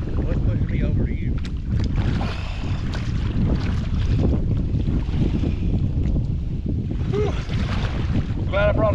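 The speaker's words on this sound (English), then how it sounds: "We got that damn wind blasting us right now." Strong wind buffets a kayak fitted with a Bimini top out on open water, a steady roaring rush with gusts and some water noise, while people talk now and then over it.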